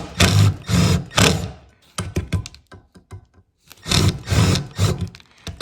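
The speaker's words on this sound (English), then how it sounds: "let's get the drill bit and let's drill these out first" A hand drill bores out small rivets on a metal bracket of a Castle Serenity pellet stove, with several loud whirring bursts separated by short pauses and clicks.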